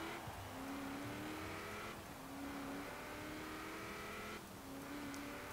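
A heavily modified Honda NSX fitted with a V8 launches from the start line in Forza Horizon 4, engine revving hard through repeated upshifts with tire squeal, loud and continuous with no talking.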